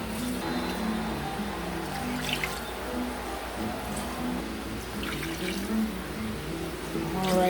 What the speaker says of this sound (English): we're going to get in about 5 cups of water